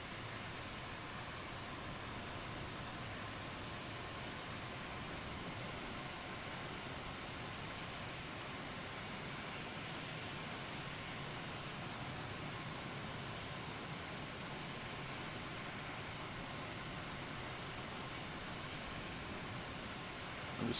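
Airliner jet engines taxiing on a runway in a flight simulator, a continuous, even whine and rumble holding steady at moderate volume without any break or voices.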